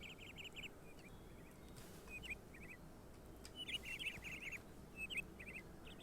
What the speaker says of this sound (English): Lots of little birds.